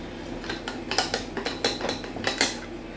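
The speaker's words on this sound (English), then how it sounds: "Now just grate cheese on top of the potato." Cheese is grated over a mashed potato topping, giving a series of rhythmic rasping strokes and light scraping taps against a dish, close and moderately loud.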